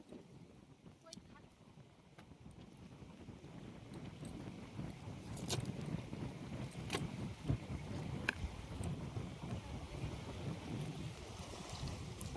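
Wind gusting over a river in the Sundarbans, heard from a boat as a steady broadband rush that swells louder midway, with low rumbling buffeting against the microphone and no voices.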